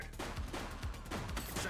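Gunshots in the police video game The Precinct, a handful of punchy reports spaced irregularly over a continuous background of game noise and sirens.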